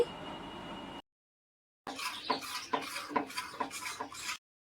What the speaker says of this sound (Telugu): వెనిలా ఎసెన్స్ వేసిన తర్వాత మూడు నుండి నాలుగు నిమిషాలు బాగా కలుపుకోవాలండి